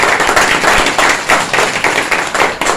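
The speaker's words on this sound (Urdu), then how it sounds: "زوردار تالیاں لگائیں اس بات کے لیے" A church congregation at a Friday healing meeting applauding loudly, with rapid bursts of clapping pulsing in waves, close and full throughout.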